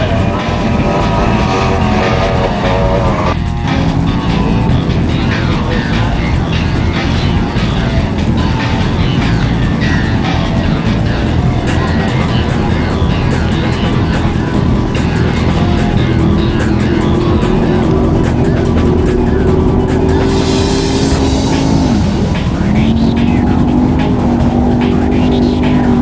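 An outboard-powered drag racing boat roars at full power, a loud unbroken engine blare throughout with a slowly rising pitch, heard at an outdoor boat drag race.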